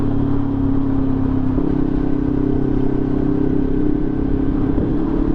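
A Sinnis Terrain 380 motorcycle engine cruising at low revs, a steady loud droning hum with an even throb and a slight pitch shift partway through, no talk.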